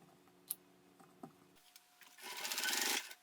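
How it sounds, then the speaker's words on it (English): Sewing machine stitching several seams across a webbing handle on a backpack, with a few light clicks and handling taps, then a short burst of steady mechanical whirring near the end. "The handle, I'm sewing several seams, as you'll see, 4 seams across."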